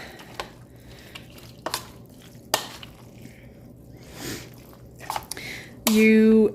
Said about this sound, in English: So I'm gonna mix this all up.